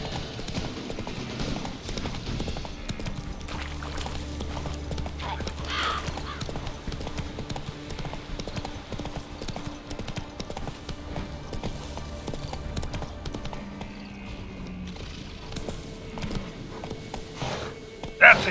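Hooves of the horse Roach clip-clop steadily through a video game scene from The Witcher 3, a continuous trotting rhythm under game music, with a brief whinny-like sound near the end.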